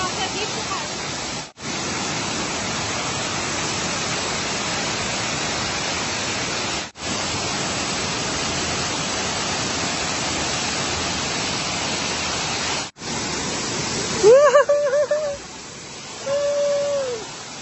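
Steady broadband rush of a waterfall at an outdoor attraction in Branson, Missouri, filling most of the stretch with a constant roar, briefly cut by short gaps, then a voice and other speech over the water near the end.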